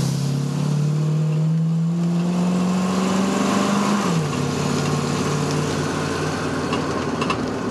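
1988 Ford F350 crew cab dually truck accelerating in drive, the engine note climbing steadily then dropping as it shifts, heard loud and continuous from inside the cab.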